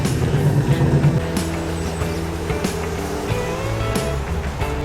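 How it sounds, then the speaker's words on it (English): A TVR Chimera sports car engine at a classic car meet, running with a steady, rumbling low tone throughout and no voices over it. "Another great looking and sounding TVR Chimera."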